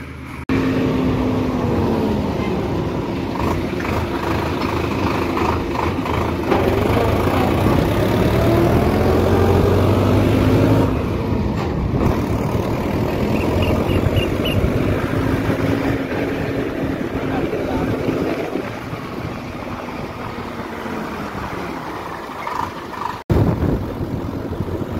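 A farm tractor pulls a trolley loaded with fertilizer toward the fields, its engine droning loud and steady close by, the note rising and falling slightly as it travels.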